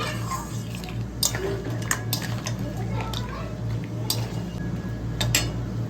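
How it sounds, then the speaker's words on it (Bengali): A spoon scrapes and clinks against the pan while crab curry with tomato and cashew-raisin paste is stirred, repeated metallic taps over a low steady hum. "তো এই যে এবার আমি এটাকে নাড়তে থাকছি।"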